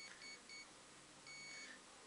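A few thin, high electronic beeps from an Esky Belt CP V2 RC helicopter's speed controller in two short clusters, faint and clean against quiet background.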